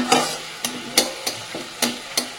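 Spice paste frying in a pan for fish curry, a close, loud sizzle punctuated by about eight regular stirring scrapes of a spatula against the pan.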